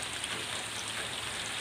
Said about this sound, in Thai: เพื่อนๆบอกว่าอาจจะยินฝนตก